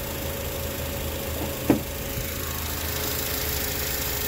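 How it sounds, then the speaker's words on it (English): The K24 engine of a 2006 Acura TSX six-speed idles steadily and evenly nearby, a low hum with a single brief click partway through. "The engine sounds excellent."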